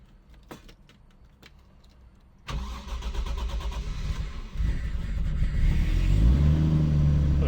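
Keys jingle faintly before a car engine cranks and fires right up on a high-mileage car with 300,000 miles, then settles into a loud, close idle that builds slightly as it revs.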